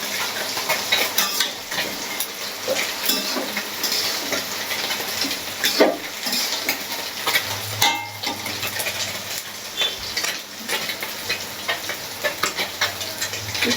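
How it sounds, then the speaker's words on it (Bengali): Boal fish curry with small potatoes being stirred in an open pot, a steady wet sizzle and bubbling with scattered scrapes and clinks of a spoon against the pot, close and continuous without talk. "ঢাকনাটা একটু খুলে নাড়া করে দিই।"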